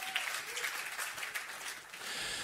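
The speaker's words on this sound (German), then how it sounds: "Bitte einen Applaus für Hans und für Stefan" Audience applause at a church service, steady dense clapping from a crowd filling the whole stretch at even loudness, with no talk over it.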